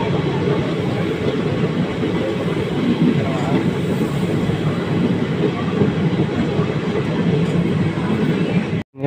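Ratnachal SF Express train pulling out of Tadepalligudem station, a steady loud rumble of rolling carriages heard from inside, continuous broadband noise with faint rhythmic clatter, cutting off abruptly at the end.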